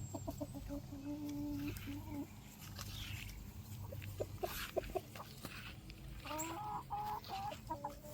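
Chickens cluck repeatedly inside a homestead chicken coop, with steady low background rumble and occasional louder squawks, close and continuous.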